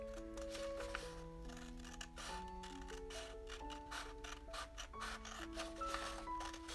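Scissors trim a paper template for a 6-inch square, giving a steady rasping, snipping texture that stays continuous under prominent background music with sustained melodic notes.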